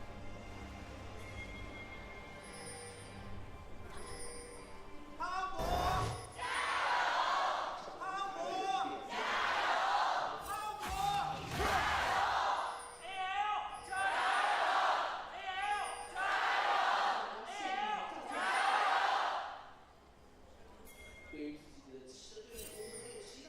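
An esports arena crowd at an LPL League of Legends match yells and roars in repeated surging waves, some far-off and echoing, broken by short pauses and sharp bangs.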